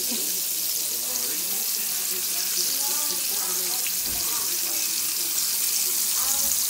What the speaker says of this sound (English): these are all the shrimp in the fryer being cooked all by the crate